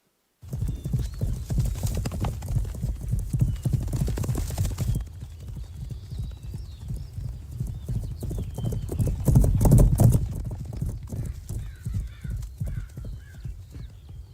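A mistreated horse in a film scene gallops in a steady clip-clop of hooves throughout, with a neigh breaking through near the middle, loud and close over the scene's backdrop.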